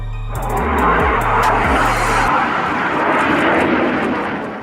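A Yak-130 jet trainer roars past loudly, a broad sustained jet-engine rush that holds near its peak throughout, with low droning tones fading away after the first half.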